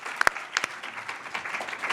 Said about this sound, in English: So, now you can clap for that.